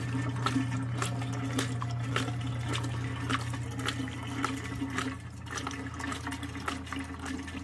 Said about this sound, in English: let it drip for about 10 minutes